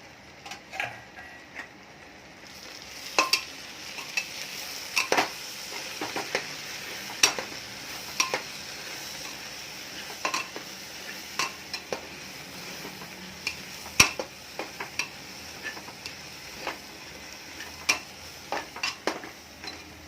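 Spices tipped onto vegetables frying in a pan for khichdi, a faint steady sizzle with scattered sharp taps and scrapes of a spoon stirring against the pan, no voices.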